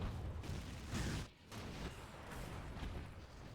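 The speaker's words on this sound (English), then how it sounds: "Howitzer fire, MiGs." Howitzer artillery fire in the strategy game Rise of the Reds: a dense, continuous wash of rumbling booms and blasts, fairly faint and distant-sounding, with a brief dip in the din partway through.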